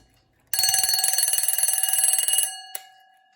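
A Westclox Baby Ben style wind-up alarm clock bell rings loudly in a rapid continuous rattle for about two seconds, stops abruptly, then gives one brief final ding.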